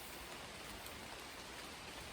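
Heavy rain pours steadily through leafy woodland trees, a dense continuous hiss of drops on foliage, loud and close with no voices.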